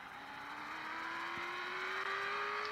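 A car drifts in the mobile racing game Real Driving, its engine holding a steady rising drone with a continuous hiss of sliding tires over nearly three seconds, no voices.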